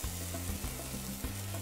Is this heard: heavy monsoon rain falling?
no